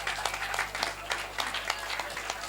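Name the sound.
applause for six quiz teams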